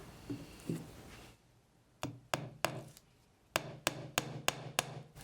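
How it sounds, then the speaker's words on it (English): A hammer drives nails into a board for string art: a few soft knocks, then a run of sharp, close, evenly spaced taps, pausing briefly before another quicker series of blows. "Take your hammer and you're going to hammer them in so they're about a ½ inch into your board."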